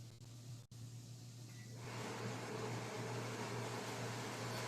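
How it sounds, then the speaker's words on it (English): A click, then a kitchen overhead exhaust fan whirs up and settles into a steady broadband whoosh with a low hum underneath, running continuously and fairly close. "I'm going to turn the overhead fan on."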